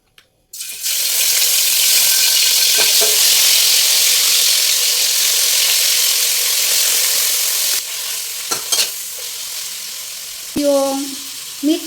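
Marinated pork belly, meat with a little fat, hits hot oil in a pan and breaks into a loud, steady sizzle that holds for several seconds, then eases as it is stirred, with brief voices speaking near the end.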